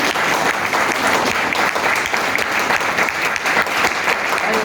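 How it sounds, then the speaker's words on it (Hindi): Loud, sustained applause from a seminar audience in Chandigarh, with dense clapping from a large crowd that holds steady and strong throughout. "तो इन चारों लोगों के लिए जोरदार तालियां,"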